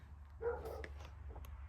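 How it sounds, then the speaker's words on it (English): Dogs bark and yip a few times in quick short bursts, fairly faint and slightly distant, over a steady low hum in an indoor room where someone is painting decorations. "My dogs are having at it."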